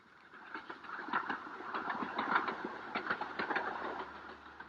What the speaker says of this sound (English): the little 2-foot gauge railway which puffs and grunts its way up towards the Himalayan foothills